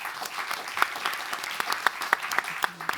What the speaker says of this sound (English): A little round of applause for.